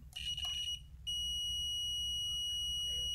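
A multimeter on continuity mode, testing a fridge relay and overload, gives a sharp, high electronic tone: a brief beep, a short gap, then a sustained steady beep to the end, close and clear.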